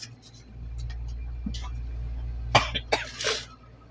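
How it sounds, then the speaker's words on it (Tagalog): A person with a cold coughs several times in quick bursts, close and harsh, after a quieter stretch of low hum and faint background sounds, with some throat clearing among the coughs. "inuubo ako"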